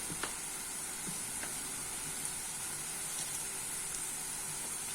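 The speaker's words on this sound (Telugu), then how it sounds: "ఈ విధంగా దోరగా వేయించుకున్న తర్వాత కొంచెం పసుపు" A fenugreek-leaf and tomato mixture with a pinch of turmeric frying in a pan, giving a steady, even sizzle with a few faint clicks throughout and no voices.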